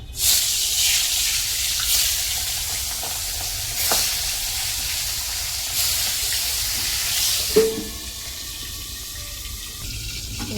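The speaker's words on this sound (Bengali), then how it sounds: "এবারে ভাজবো কিন্তু এইটা তো ফাটে তো আমাকে কি বলতো দিয়েই ঢেকে দিতে হবে" Fish rubbed with salt and turmeric fries in hot oil under a lid, a loud continuous sizzle with periodic hissing spatter bursts and a sharper crackle near the end, no talking.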